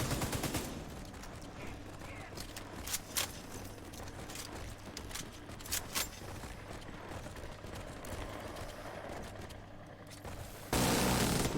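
Minigun fire in Division 2 crackles in dense bursts across the clip, with sharper individual shots poking through, followed by a loud burst at the end.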